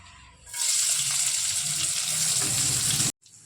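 Chopped onion, green chili and garlic fry in oil with a dried red chili and cumin, giving a loud, steady sizzle that starts abruptly, holds for a few seconds, then cuts off briefly and resumes.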